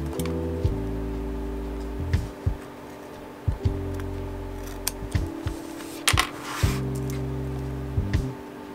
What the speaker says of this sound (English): I'm going to snip off a little bit more of it on the ends.